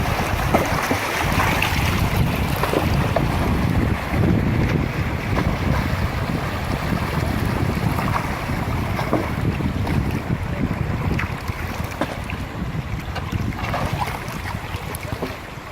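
Water rushes steadily along the rocky, bamboo-lined banks of the Rio Grande after heavy rains, a continuous broadband wash mixed with wind buffeting the microphone, with no talking throughout.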